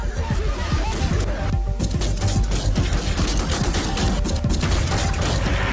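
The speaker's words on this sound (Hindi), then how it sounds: "भीड़ पर चल रही गोलियां" Gunfire is directed at a crowd outside Kabul airport: rapid, irregular bursts of shots crackle over a constant layer of crowd commotion.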